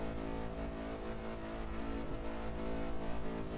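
A car engine in Test Drive Unlimited 2 holds a steady high-pitched drone near a top speed of about 191 mph, a continuous loud whine with little change.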